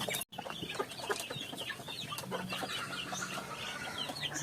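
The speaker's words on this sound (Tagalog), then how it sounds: "native yung rooster, basilan na rooster, tapos ito yung hen niya" Native Basilan rooster and hen clucking in a farm yard, with steady overlapping clucks and chatter, some wing flapping, close and continuous throughout.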